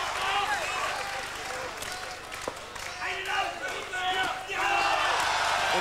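Boxing crowd cheering and clapping for a good action by Sven Ottke against Charles Brewer, a loud sustained roar that swells in bursts, with sharp impacts and a commentator talking over it.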